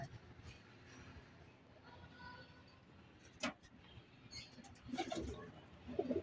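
Pigeons in a loft coo in soft, low bursts over a noisy, rumbling background, with a sharp clatter partway through and louder cooing clusters toward the end.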